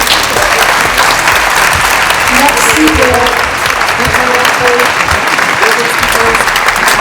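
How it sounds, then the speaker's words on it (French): A TEDx audience gives the speakers loud, sustained applause, dense and steady throughout, with voices and cheers faintly mixed into the clapping. "J'aimerais que vous applaudissiez très fort les speakers"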